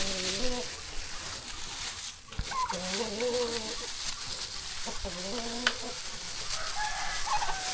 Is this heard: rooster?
yes